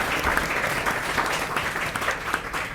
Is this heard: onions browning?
no